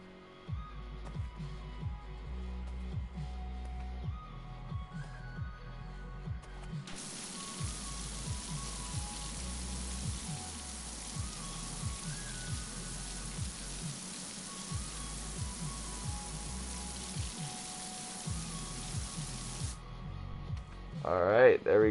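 A pressure washer in Pressure Washing Simulator hisses in a long, steady spray that starts abruptly and cuts off cleanly after several seconds, under continuous talking.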